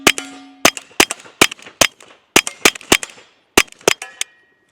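Sharp, sparse pistol shots from a Smith and Wesson M&P 22X .22 handgun crack out one at a time in an irregular string, each loud and close with a short ringing tail.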